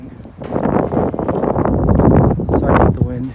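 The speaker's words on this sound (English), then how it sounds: "Sorry about the wind. It's freezing cold and windy." Loud buffeting wind noise on the microphone on a freezing cold, windy day in upper Manhattan, gusting low and rough throughout, with a voice briefly audible under it.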